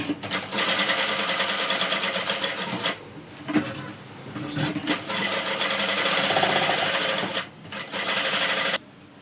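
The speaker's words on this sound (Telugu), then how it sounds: "ఇప్పుడు కుడదామండి." Sewing machine stitching the lining of an umbrella frock, running in loud close bursts of rapid whirring with short pauses between runs, alone without talk.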